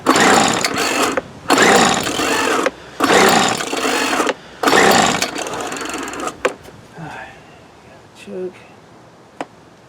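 A 1997 Weed Eater BV 1800 24cc leaf blower engine roars in four loud, sustained bursts with short gaps between them, then cuts out, leaving scattered faint clicks and knocks.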